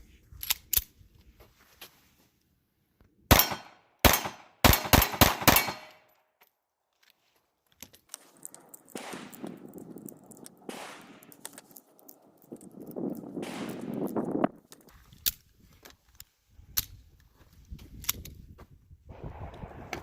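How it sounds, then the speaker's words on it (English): A Taurus Spectrum pistol fires a quick burst of several sharp, loud shots during rapid fire, ending in a stovepipe jam. Quieter handling clicks and rustles follow, with faint voice sounds. "So there's a stovepipe under rapid fire."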